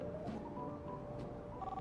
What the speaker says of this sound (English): Phone's ringing, dude.